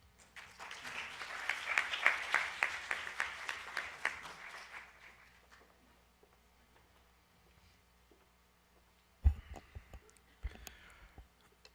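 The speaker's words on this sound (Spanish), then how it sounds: "los invito para que entre todos nos brindemos un fuerte aplauso" An audience at an academic presentation breaks into soft, distant applause that swells and then fades away within about five seconds, followed by quiet and a few faint knocks and handling sounds.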